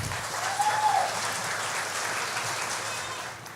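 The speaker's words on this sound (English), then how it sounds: "Give them a round of applause" Audience at a community awards ceremony claps loudly and steadily throughout, a dense, sustained round of applause filling the room with no break.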